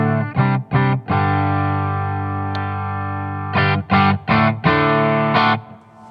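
Clean electric guitar tone from a Fano Omnis MG6, a few short plucked chords followed by a long ringing sustained chord, then another run of brief strummed stabs, close and clear with no talking.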